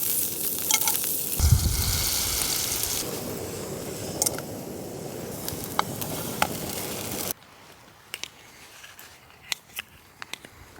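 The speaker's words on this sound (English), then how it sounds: "The butter's melting perfectly over the first pancake." Butter melting and sizzling in a pan beneath a triple stack of pancakes, cooked while camping in a snowstorm; a steady close frying hiss runs for about seven seconds, then drops to quiet with a few small clicks and taps.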